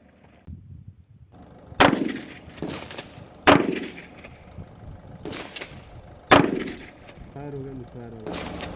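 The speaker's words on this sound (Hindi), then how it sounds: "चलो फिर से अब मैं 3 राउंड ट्राई करता हूँ।" A revolver fires three sharp, loud shots outdoors at a range, spaced a couple of seconds apart, each followed by a brief echo, with quieter clanks, movement and a faint voice between them.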